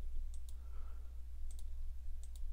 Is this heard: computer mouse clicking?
yes